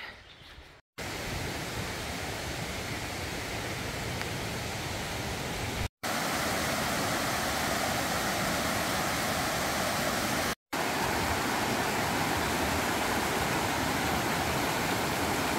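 Steady rushing of Indian Creek in Great Smoky Mountains National Park, a continuous broadband wash of flowing creek water heard alone at moderate level, briefly cut by two short gaps.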